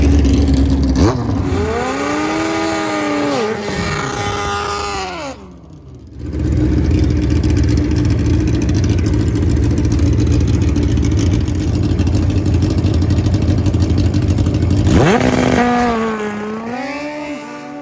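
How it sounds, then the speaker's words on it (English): Old school Kawasaki KZ drag bikes roar loudly at a drag racing event, engines revving up through rising gear pulls, with a brief lull and then a fresh wailing launch. "Well, you know we love the Kawasaki KZ on Cycle Drag, and this one is immaculate."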